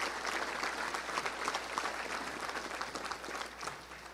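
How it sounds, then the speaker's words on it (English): A crowd claps steadily and continuously, a dense wash of applause with no voices standing out, at a Little Rock Touchdown Club luncheon. "Let's give everybody a round of applause for all of our founders and board members."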